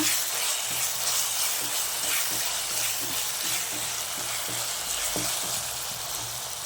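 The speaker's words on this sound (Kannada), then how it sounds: "ಶುಂಠಿ ಬೆಳ್ಳುಳ್ಳಿ ಪೇಸ್ಟ್ ಹಾಕ್ಬಿಟ್ಟು ಸ್ವಲ್ಪ ಫ್ರೈ ಮಾಡೋಣ" Ginger garlic paste frying in a pan for egg rice, a steady dense sizzle that runs unbroken throughout, with a few faint knocks of stirring underneath and no voices.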